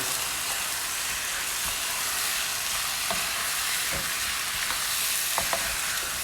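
Loud, continuous sizzling of chicken browning in a hot frying pan for chicken arrabbiata, with occasional pops and scraping stirs.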